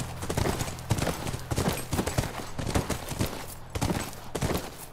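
Horse hooves clip-clop in a steady, brisk rhythm in the video game The Last of Us Remastered, close and fairly loud, with a low background rumble underneath.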